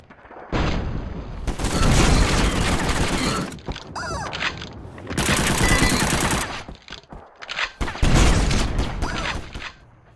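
Rapid automatic gunfire in the War Brokers shooter game comes in three dense, loud bursts, each a few seconds long and split by short pauses, with the shots packed close together and no talking.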